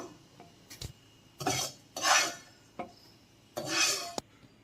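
A spoon scrapes roasted semolina from a kadai onto a plate, giving several separate gritty rasping strokes and light metallic clinks at close range, with quiet pauses between them and no talking.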